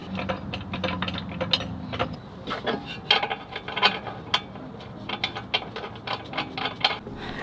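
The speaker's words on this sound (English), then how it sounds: "tighten the upper control arm by using the jack to lift it up" Ratcheting wrench work on a car's upper control arm, with the arm jacked up to reach a shortened spindle: a steady run of close, sharp ratchet clicks in bursts, with metallic mechanical clatter and no talk.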